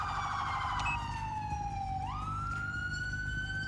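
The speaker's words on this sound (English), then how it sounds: "Bro, if you would turn off your siren" A police car siren in GTA 5 wails loud and close, its long tone sliding slowly down and then sweeping back up, over a low engine rumble, with no one talking.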